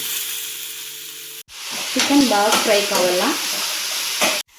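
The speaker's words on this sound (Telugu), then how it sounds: "చికెన్ బాగా ఫ్రై కావాలా." Chicken pieces with turmeric frying in a pan, a steady loud sizzle broken by stirring scrapes, briefly cut by a pause.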